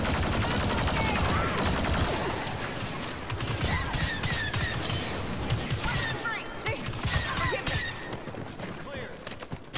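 Rapid blaster fire in the 2017 Star Wars Battlefront II campaign crackles in dense overlapping bursts against Imperial troops, with chaotic battle noise and voices throughout.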